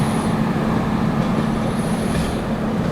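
A Jodhpur-bound passenger train rolls steadily past close by, its loud continuous rumble and rail roar filling the whole moment, with a faint high wheel squeal drifting over the top.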